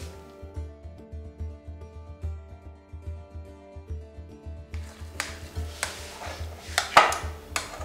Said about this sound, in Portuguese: Agora misturo secos e molhados.